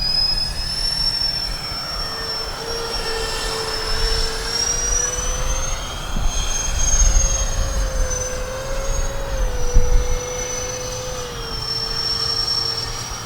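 An FMS A-10 Thunderbolt V2 radio-controlled model jet flies with a steady, high, whining engine tone that rises and falls slightly as it passes. The sound is continuous and fairly loud, with no voices over it.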